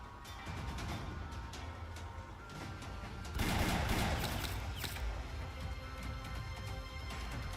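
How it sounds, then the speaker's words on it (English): Gunfire from statues' guns in the video game Arknights, a faint, rapid volley of sharp cracking shots that grows denser and louder midway through. "Let's make up for all those gunshots we haven't heard over the years."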